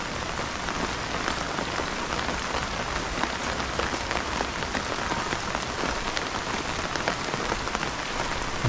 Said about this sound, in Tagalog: Grabe itong ulan na to.